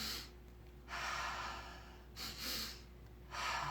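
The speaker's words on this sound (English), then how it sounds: "Breathing twice into the nose, letting it go out through the mouth" Breathwork practice of two breaths drawn in through the nose and released out through the mouth, soft close-up inhales and exhales in a quiet room, repeating in an uneven rhythm with audible airy rushes.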